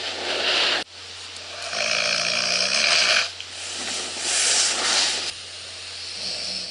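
A sleeping person snoring at night, with several long, rasping, rumbling breaths at close range, separated by short pauses, over a faint steady background hum.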